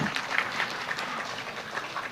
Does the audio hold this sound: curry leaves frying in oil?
no